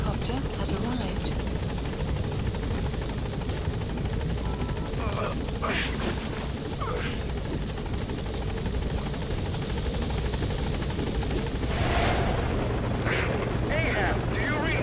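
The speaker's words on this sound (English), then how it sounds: "Support helicopter has arrived." A support helicopter in Metal Gear Solid V comes in to a landing zone with a steady, loud rotor thrum and engine whine, while radio voices talk over it.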